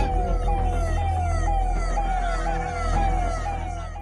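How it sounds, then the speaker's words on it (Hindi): A police siren wails loudly during a Muharram crowd disturbance in Bihar, its rising and falling tone sweeping repeatedly over a deep rumble of traffic and crowd noise. "जोर जोर से सुनाई देती सायरन की आवाज"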